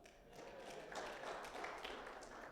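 Thin, scattered clapping from a small audience at a sermon or talk, faint and brief, a sparse patter that fades without building.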